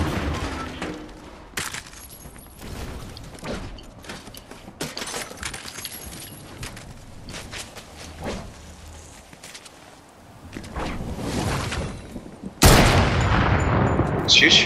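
Bursts of gunfire from Fortnite Chapter 4 Season 2 crackle through a busy match, scattered shots and rapid volleys rising near the end, with players talking over the action.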